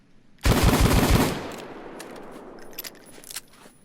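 A Taurus Judge shotgun revolver in Payday 2 fires five fast booming rounds in quick succession, each blast stacking into a loud burst that rings out and tails off, followed by faint mechanical clicks and handling noises.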